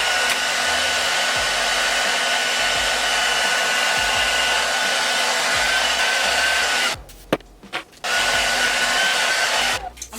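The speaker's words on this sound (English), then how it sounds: "blow dry it a little bit" A hair dryer blows on a lace wig with a loud, steady close-up whoosh and motor hum that runs continuously, cuts out briefly near the end with a few clicks, then starts up again.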